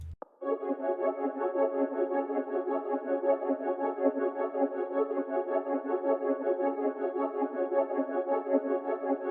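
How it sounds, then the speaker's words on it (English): Dark ambient synth melody drenched in reverb with chorus, phaser and reversed playback, a sustained, swelling tone holding steady and full throughout, fading in at the start and cut off at the end. "I just added the reverse effect for the entire melody"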